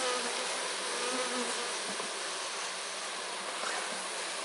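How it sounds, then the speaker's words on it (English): Dense, steady buzzing of many bees swarming around a hive during installation of a new colony, loud and continuous throughout with no voices. "I'm just letting the bees get out of the way."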